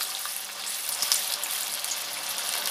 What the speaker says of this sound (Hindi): तेल हमारा गर्म हो गया है, अब हम गैस की फ्लेम को धीरे कर दिए हैं और इसमें एक कटलेट डालेंगे